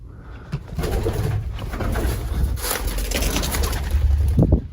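Pigeons in a steep underground passage inside an Egyptian pyramid, with soft cooing and fluttering over an echoing, rumbling background and a brief louder rustle near the end.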